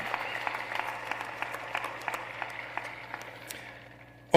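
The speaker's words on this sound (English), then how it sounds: "you can give a round of applause" Scattered applause from the crowd at the Bearden High School 2022 graduation ceremony: sparse, fairly faint individual claps over a steady hall hum, ending in a sudden louder burst.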